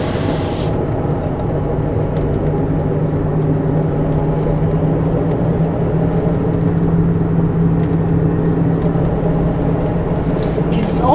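Loud, steady interior drone of a car driving with newly replaced joints, a constant low rumble and whir filling the cabin for the whole stretch, with a suspected dry differential.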